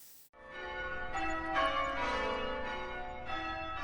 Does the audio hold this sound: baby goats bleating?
no